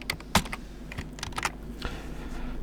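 Close, irregular clicking and clacking of a computer keyboard as someone types a PowerShell script on Windows, with small bursts of keystrokes and brief pauses and no talking.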